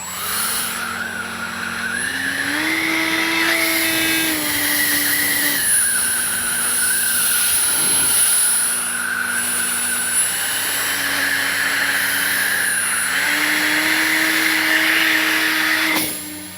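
A Top RC Swift jet airplane by FGFRC whines loudly on its maiden flight, its steady electric ducted-fan pitch rising and falling as it dives and climbs, with no voices.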